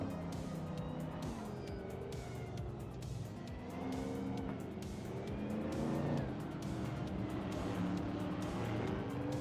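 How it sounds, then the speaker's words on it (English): A 1970 Dodge Challenger racing in a video game, its engine roaring steadily with rising and falling revs, other cars whooshing past and occasional tire squeals, loud and continuous. "Maya is in a 1970 Dodge Challenger, clocking the fastest lap so far."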